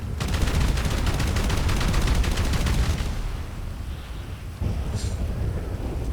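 A car burns and explodes in GTA V: rapid crackling bursts and rumbling booms roll on for a few seconds, then die down into a low roar with a brief sharp pop afterward.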